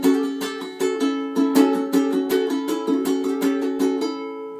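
A ukulele plays a short bluesy lick on the A, notes sliding up and back down in a steady run of strums and picks, close and clear.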